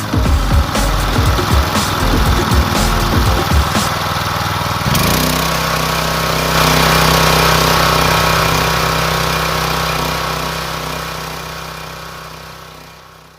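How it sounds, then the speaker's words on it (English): The small gas engine of a Simpson 3300 PSI pressure washer, model PS60841, runs loud and steady, rough and buzzing at first, then settling into an even drone that fades slightly toward the end. "there's a bit of noise coming from the motor"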